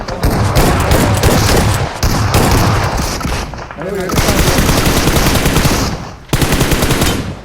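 Sustained automatic gunfire in the BGMI video game, with loud, dense bursts that break off briefly and then resume as continuous rattling fire. Players talk over the shooting.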